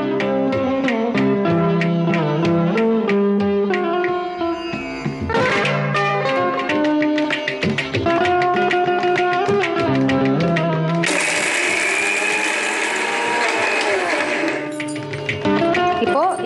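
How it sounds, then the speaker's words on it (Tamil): Music plays throughout while a mixer grinder whirs loudly in a steady burst for a few seconds near the end. "இதை நான் அரைச்சிக்கிறேன்."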